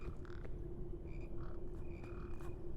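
Frogs croak in the PEAK video game: a steady low rumble of ambience with several short, mid-pitched croaks and chirps repeating irregularly, fairly quiet, with no talking.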